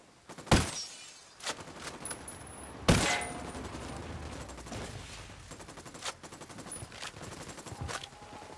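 Gunfire in Ghost Recon: Wildlands: several sharp, loud gunshots at irregular intervals, followed by rapid lighter bursts, all over a continuous low combat background with no talking.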